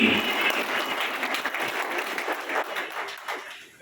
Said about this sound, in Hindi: भरपूर तालियां होनी चाहिए जी